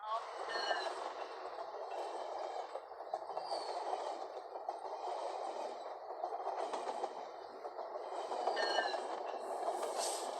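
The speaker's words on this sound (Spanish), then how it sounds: "Son los trenes pasando" Trains passing beneath a concrete structure, a steady loud rumble with a metallic rattle and faint high wheel squeals, continuous throughout and heard from inside with some voice in the background.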